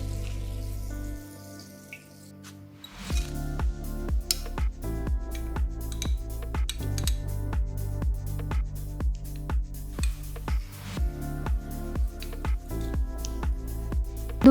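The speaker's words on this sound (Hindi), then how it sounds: "अब हम गुलाब जामुन को स्लाइटली वार्म चाशनी में डालेंगे।" Warm sugar syrup takes in gulab jamun made with milk powder, giving soft, regular wet plops and squishy drips in a steady rhythm after a quiet start, close up and with no talk.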